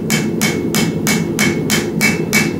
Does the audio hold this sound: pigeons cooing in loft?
no